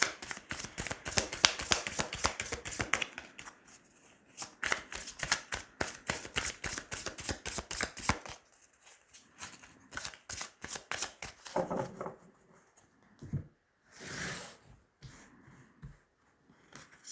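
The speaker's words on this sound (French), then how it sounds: "Allez, on va tirer 3 cartes." A deck of cards is shuffled at a table before a tarot-style card reading. Soft, rapid riffling bursts and flicks repeat in quick runs with short pauses, close and fairly quiet, with no talking.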